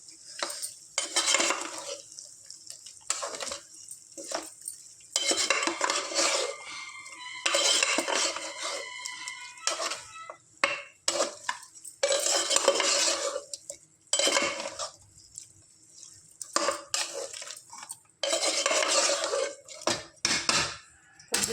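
Spoon stirring ginger garlic paste into a tomato chicken curry in a pan, with repeated scraping and clinking of metal on the pan in steady bursts and a light sizzle underneath, close and alone without talk.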